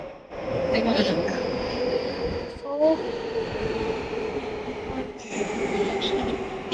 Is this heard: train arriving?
yes